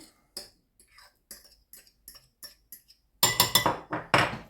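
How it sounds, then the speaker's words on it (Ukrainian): A fork clicks and scrapes against a bowl in a string of light taps, then works into a faster run of louder, mushy scraping strokes, mashing processed cheese with garlic. "І так виделкою розминаю добре."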